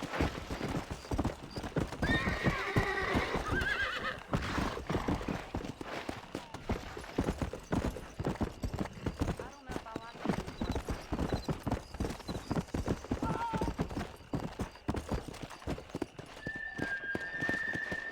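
Horse hooves clip-clop in a steady galloping rhythm while riding in Red Dead Redemption on PC, close and continuous, with occasional neighs and whinnies over a busy game soundscape.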